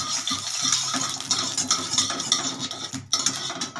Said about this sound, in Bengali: ঘিটাতে আমি একটু কাজু কিশমিশটা একটু হালকা ভেজে রাখছি